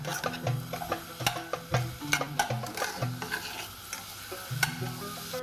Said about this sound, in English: with 1 cinnamon stick chopped in half and 3 cumins, and then you fry them together.